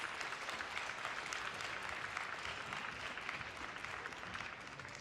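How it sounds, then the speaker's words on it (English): An audience at a high school orchestra club gathering applauds the lighting and sound technician, an even, continuous wash of clapping heard faintly from a distance. "we definitely want to give Josh a big round of applause for everything he does for us"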